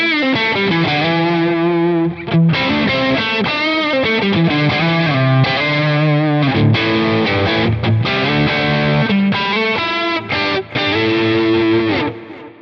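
Electric guitar played through a Quad Cortex amp capture, distorted and warm, with a continuous run of chords and melodic phrases at steady loudness and no talk.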